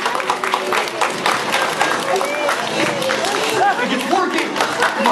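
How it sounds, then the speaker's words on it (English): An audience at a children's museum show applauds a performer, with a dense, steady wash of clapping and crowd chatter and voices mixed throughout. "Come on, let's get a big round of applause going."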